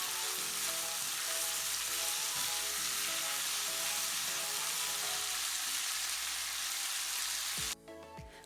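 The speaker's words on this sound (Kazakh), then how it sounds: "Қызып тұрған майымызға маринадталған етімізді салып, суы тартылып кеткенше жақсылап қуырамыз." Marinated meat frying in hot oil, a loud steady sizzle that holds throughout with occasional stirring clicks.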